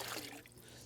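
Water drips and trickles back into a garden pond as a potted aquatic plant is lifted out, a brief soft patter close by with no talk.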